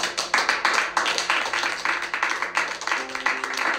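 Rapid hand clapping rings out close and loud, a quick rhythmic run of claps through the whole stretch, with faint voices underneath.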